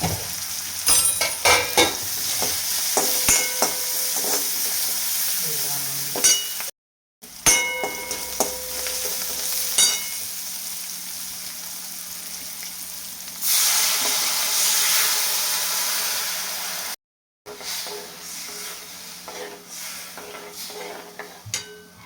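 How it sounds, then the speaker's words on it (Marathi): Green chilli, garlic and coriander sauté in oil for a Maharashtrian curd kadhi, a steady sizzling hiss broken by utensil clinks and stirring scrapes, swelling louder in the middle with two brief silent cuts. "आता कोथिंबीर पण मी तेला छान परतवून घेते."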